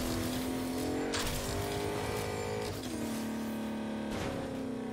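A car engine in the video game Agents of Mayhem drones and revs at a steady high pitch, shifting gears three times with brief dips and climbs, loud and close with no talk.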